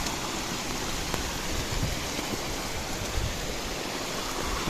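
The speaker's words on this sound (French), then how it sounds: "On arrive à une petite rivière, hein. Un petit ruisseau" A small forest stream in the Pyrenees flows steadily nearby, its broad, even rush of water continuous and unbroken, with no voices over it.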